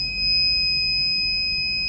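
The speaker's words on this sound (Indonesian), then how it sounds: "LED merah dan buzzer." A buzzer in a simple home security alarm circuit sounds a loud, steady electronic tone that holds unbroken for the whole span, alone with no voices.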